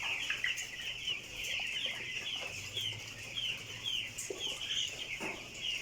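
Young broiler chickens, eleven days old, in a grower area of a poultry farm cluck and peep continuously as a dense flock, with a steady crowd chatter and scattered louder calls close by.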